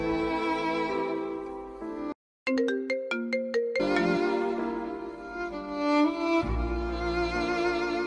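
A phone plays a looping musical ringtone melody during an outgoing call, loud and close, with one brief silent gap and a run of bright chime-like notes before the tune resumes.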